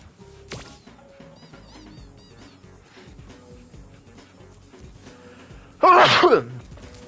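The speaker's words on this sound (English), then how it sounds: "I hate sneezing so much." A single loud, sharp sneeze bursts out near the end after a stretch of quiet room noise.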